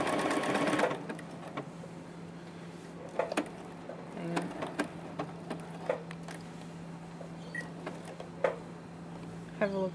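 A Juki F600 sewing machine stitches fabric with a layer of wadding, opening with a brief fast run, then a low steady hum under scattered mechanical clicks and taps from close by.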